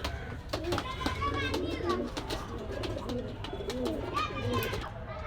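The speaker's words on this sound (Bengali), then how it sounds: "পুরাতন জেনারেশনের তুলো কবুতার চোখ একেবারে ক্রিম চোখের কবুতার" Pigeons coo in soft repeated murmurs at a pigeon shop in Gollamari, Khulna, heard close among birds and mixed with someone talking and children's voices in the background.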